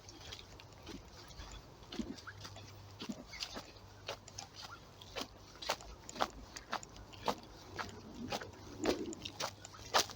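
Footsteps crunch over frozen, thawing ground during a pre-spring walk in Newbattle, Midlothian, Scotland: a steady run of sharp, close crunches repeating roughly every half second, with no talking.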